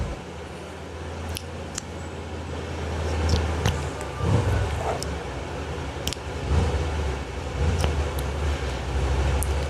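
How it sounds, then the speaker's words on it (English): A very loud truck drives past a house, a low rumbling engine drone that swells and lingers across the whole stretch, with scattered sharp clicks and small handling noises nearby. "There's like the loudest fucking truck ever driving past my house right now."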